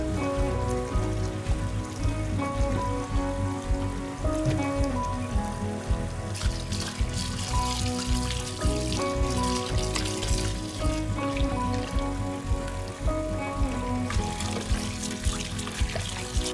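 Napa cabbage being rinsed in water for kimchi, with a continuous close splashing and pouring rush over steady background music.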